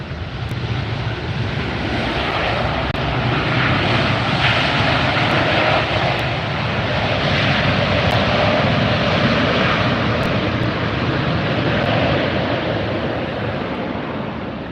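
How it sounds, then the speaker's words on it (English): A Delta Airlines Airbus A350-900 arriving at Los Angeles airport from Tokyo gives a broad, steady jet engine roar that swells and fades gently over the whole stretch, with no voices. "This is Delta Airlines Flight 8, an Airbus 350-900 arriving from Tokyo"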